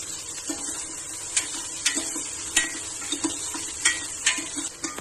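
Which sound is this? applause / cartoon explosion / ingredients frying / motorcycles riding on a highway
ingredients frying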